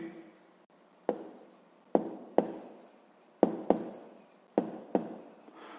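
Chalk or marker strokes on a board, with about eight sharp taps where each stroke starts and a scratchy rubbing sound after each one, close and fairly quiet, as a math lesson on area is written out.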